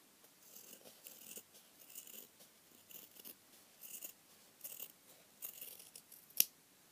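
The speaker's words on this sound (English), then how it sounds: "Scissors will cut." Repeated soft snipping of scissors cutting fabric, a steady series of short crisp cuts close by, ending with one sharper, louder snip.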